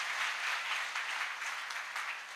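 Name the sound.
applause for Jesus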